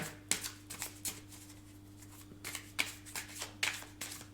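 Tarot cards are handled and laid down, making soft papery flicks and slides in a quiet room, close and faint, with brief pauses between movements.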